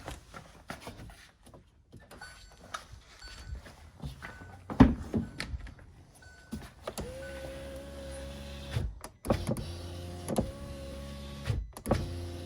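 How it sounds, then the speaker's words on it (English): A power window on a 2017 Hyundai Tucson runs in two long electric motor whines, preceded by door thunks and handling noises, close up in a quiet setting. "let's make sure the window's working"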